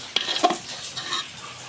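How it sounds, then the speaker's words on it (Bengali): Rice, dal and peanuts frying in a pan for khichuri are stirred, several close scraping strokes over a light sizzle. "এবার চাল, ডাল, বাদামগুলোকে ভালোভাবে কষে নেব"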